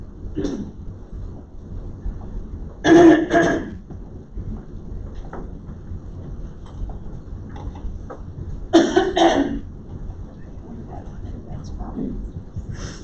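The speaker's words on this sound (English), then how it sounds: "Give me a minute to clear my throat." Two rough throat-clearing bursts several seconds apart, close and fairly loud, over a steady background hiss.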